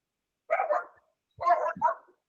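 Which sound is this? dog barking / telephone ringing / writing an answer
dog barking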